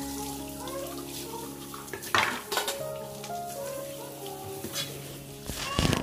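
Steel dishes clatter and clink as a kitchen dish basket is shifted aside, several sharp metallic knocks over a low running-water wash and tonal ringing, close and fairly quiet.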